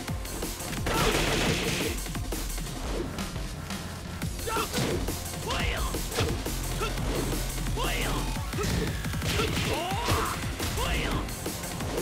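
Rifle gunfire amid fighting in the video game Tekken 7, rapid bursts and impacts blended with dramatic music, with someone talking over the action throughout.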